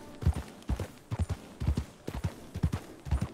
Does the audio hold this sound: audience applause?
no